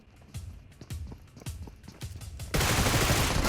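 A Groza rifle match in a video game, with a run of sharp gunshots fired in quick succession at uneven intervals and then a sudden burst of loud, dense, broadband noise that holds to the end.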